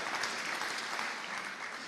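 A Rotary Club audience in Gainesville breaks into a brief, even round of applause, many hands clapping together at moderate volume before it begins to taper.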